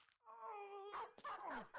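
A war dog in the Battle Brothers medieval tactics game gives a drawn-out whining yelp, then a couple of short barks and yips, close and clear with no other sound behind it.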